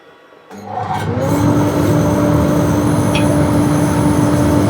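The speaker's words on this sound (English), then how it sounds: "Extractor's going back on now." A dust extractor in a woodturning workshop kicks on after a quiet moment, rising into a loud, steady broadband roar with a sustained tonal whine that holds for several seconds, close by.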